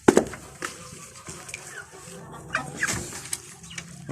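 Turkeys, chickens and ducks feeding together give scattered clucks and squawks at close range, short irregular calls over a low farmyard bustle.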